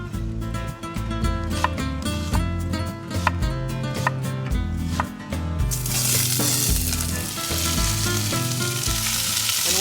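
Sliced medium white onion sizzles steadily in a hot pan, and the frying grows louder and more intense partway through. A continuous loud hiss plays under background music.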